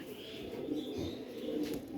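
Jacobin pigeons cooing inside a cage, low steady coos running throughout at close range, with faint chirps and some rustling in the background.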